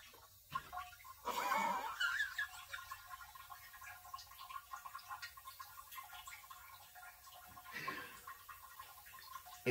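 A bidet sprays a cold jet of water, heard as a couple of brief hissing bursts against a quiet bathroom background.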